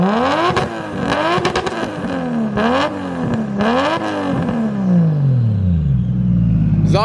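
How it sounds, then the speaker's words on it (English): A turbocharged car on a stock ECU revs its engine hard through the exhaust, with several sharp rises and falls in pitch that end in a long descending wind-down to a low idle rumble, loud and close. "Showman, can you get a clip real quick of the exhaust?"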